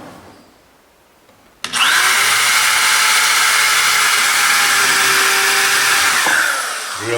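A power drill fitted with a countersink bit bores into the wooden hull of a skiff under construction, one loud, close, continuous whirring run lasting about five seconds before spinning down.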